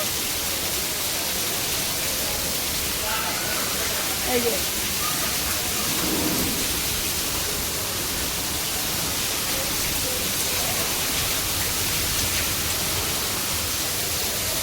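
Steady roar of heavy rain in Radhanpur with water pouring down nearby, constant and broadband, while muffled voices talk quietly beneath it.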